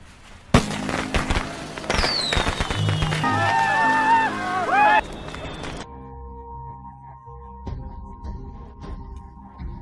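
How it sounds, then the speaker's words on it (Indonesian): Fireworks set off in an action movie scene: a sharp bang followed by crackling bursts and whistling shell trails, then the effects fade into a quieter musical score. "Keduanya kemudian bersiap melakukan sesuatu yang besar, yaitu menyalakan kembang api."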